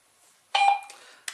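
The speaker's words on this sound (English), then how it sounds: "at the moment the radio is just beeping" A short electronic beep chirps from a Baofeng BF-888S handheld two-way radio nearby, followed by a quick fainter blip, in an otherwise quiet room.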